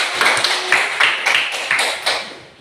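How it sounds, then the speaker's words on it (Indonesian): A classroom of students claps in a short round of applause with several distinct bursts of hand claps, moderately close, tapering off at the end. "Kasih aplaus dulu."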